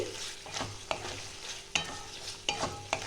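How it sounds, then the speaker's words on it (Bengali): Minced mutton sautéing in oil in a pan, a steady close sizzle broken by a few sharp scrapes and clacks of a stirring spoon against the metal, with no talking. "4 থেকে 5 মিনিট আমি ভালো করে একটু কষিয়ে নেব।"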